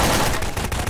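Heavy weapon gunfire in Garry's Mod, a dense continuous burst of rapid shots that stays loud and close for the whole second, with no talk over it.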